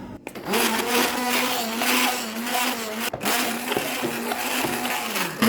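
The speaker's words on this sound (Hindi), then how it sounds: "यहाँ पर ये देखिए ब्लेंडर की मदद से सारे क्रिस्टल इसके टूट चुके हैं।" A hand blender whirs through a frozen kulfi mix, crushing the ice crystals, a loud steady motor drone close up with a brief dip and jolt near the start and again midway as the blade shifts.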